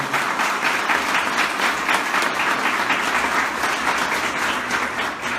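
A large church congregation applauds steadily, a dense wash of clapping that keeps going at full strength without pause.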